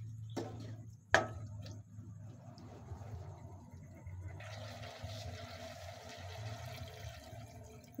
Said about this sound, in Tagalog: So lagyan po natin ito ng tubig.